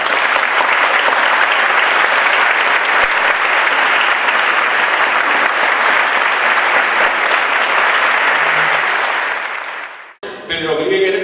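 A lecture audience gives loud, sustained applause to welcome a sociologist and journalist to a seminar, fading out near the end as a voice starts to speak.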